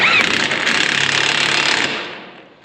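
A powerful impact wrench on a farm stall repair rattles in one loud continuous burst for nearly two seconds, then winds down and fades out.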